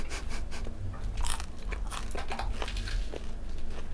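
Biting and chewing crunchy deli bread in Saint Emilion, France, a run of close, crisp crunches repeating over several seconds against a low background hum, no talk.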